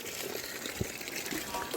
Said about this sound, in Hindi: यहाँ पे भरना है हमें पानी।